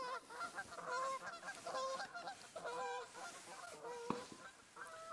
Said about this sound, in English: Where are these geese going now?